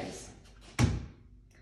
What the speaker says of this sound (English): you push it to close it, and then it has a soft close